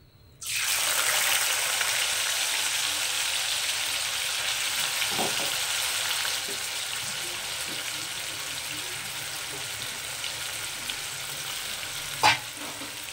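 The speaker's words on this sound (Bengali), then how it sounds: "আর বাকি যেগুলো আছে তো ওই একই তেলের মধ্যে আমি আবার এইভাবে ভেজে নেব" Potatoes for a crispy aloo fry drop into hot oil and burst into a loud, dense, continuous bubbling sizzle up close, with a few soft knocks of stirring.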